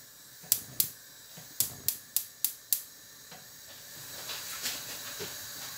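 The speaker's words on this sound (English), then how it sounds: "Turn on the gas" Gas on a kitchen stove being switched on: a run of seven sharp igniter clicks, close and crisp, followed by a soft, rising burner hiss.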